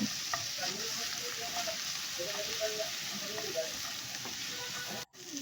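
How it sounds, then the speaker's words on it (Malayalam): Ginger and garlic sautéed in a pan for a Kerala-style fish curry, a steady close sizzle with faint scraping stirs, no talk, briefly cutting out near the end. "ബാക്കിയുള്ള ഇഞ്ചി, വെളുത്തുള്ളി കൂടി അതിലേക്ക് ഇട്ട് കൊടുക്കുക. എന്നിട്ട് നന്നായിട്ട് അത് വഴറ്റി കൊടുക്കുക."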